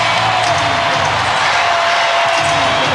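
An arena crowd at Game 2 of the 1995 NBA Finals between the Houston Rockets and Orlando Magic roars loudly and steadily with cheering as Horace Grant urges them on, under a broadcast commentator's voice.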